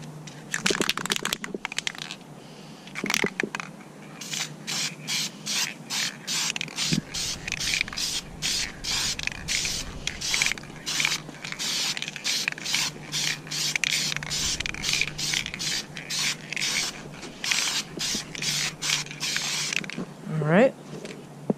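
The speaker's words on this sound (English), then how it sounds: "So I'm gonna go ahead and put on a clear coat." Aerosol can spraying clear coat onto car wheels: repeated short hissing bursts in a steady rhythm, close and loud, with a rattling can shake near the start and at the end, no talking.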